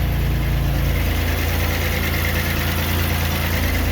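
A freshly installed GM 3800 V6 idles just after its first start, a steady low rumbling drone with even vibration, close and loud in an echoey garage, with no talk.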